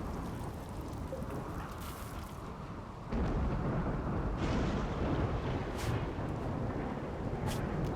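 A RimWorld storm, a dense continuous roar of rain and rumbling wind that jumps louder partway through and stays heavy, with faint cracks above it and no talking.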